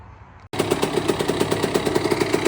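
Kawasaki KX65 two-stroke dirt bike fitted with a big bore kit kicks into life after a brief pause, then settles into a loud, close, rapid popping idle.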